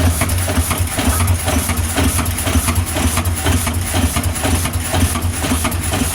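A loud engine starts and idles steadily up close after warming up, with a low, rumbling, continuous drone and a slight rhythmic pulsing.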